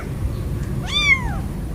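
A frightened kitten away from its mother lets out a single short, high meow, fairly close, over a quiet background hiss.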